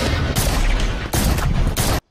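Gunfire in the video game Valorant, rapid sprayed bursts of automatic fire in several loud clusters with brief gaps, cutting off abruptly at the end.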